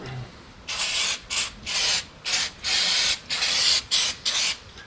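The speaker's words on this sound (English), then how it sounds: "give everything a clean with some brake cleaner" Brake cleaner sprays onto brake rotors on an EK Civic during a big brake upgrade, nine or so loud hissing bursts in quick succession, close by, with short pauses between each spray.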